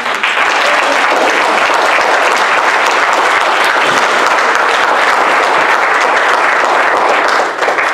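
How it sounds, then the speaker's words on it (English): A church congregation breaks into loud, sustained applause, a dense wash of clapping that fills the space evenly from start to finish. "Church, would you give the Lord a round of applause for the time?"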